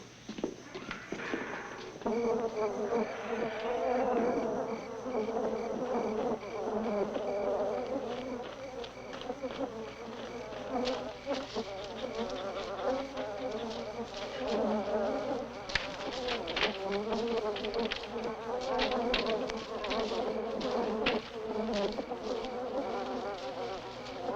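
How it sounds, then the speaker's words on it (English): A swarm of agitated killer bees buzzes around their hives in a steady, dense, loud drone that persists throughout, with layered wingbeat hum and occasional surges. "goddamn bees are going crazy."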